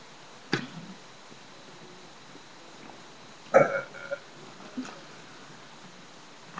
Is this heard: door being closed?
no